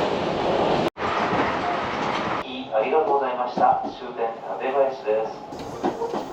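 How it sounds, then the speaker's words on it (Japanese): A Tobu line train crosses the Tone River between Hanyu and Tatebayashi, its continuous rumble and rattling wheels heard from inside the carriage, with the sound abruptly shifting to a lighter rhythmic clatter midway. "ここでやっと電車で利根川を越え群馬県側へと渡る。"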